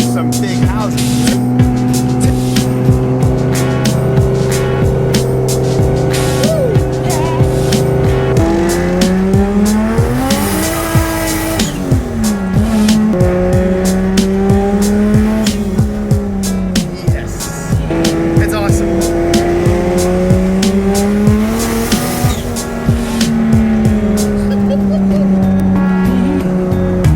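Turbocharged 1JZ engine in a Lexus SC300 driving through a neighborhood, a loud continuous drone rising and falling in pitch through gear changes and revving, heard from close by without a break, with talking in the car.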